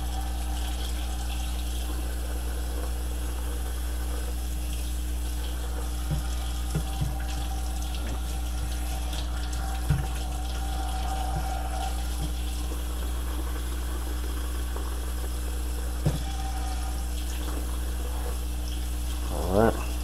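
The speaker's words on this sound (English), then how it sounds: "As you can see, I got to guide the water in here as well" Tap water runs through a trumpet bell during cleaning, a steady faint hiss and trickle over a low hum, with a few small knocks and splashes.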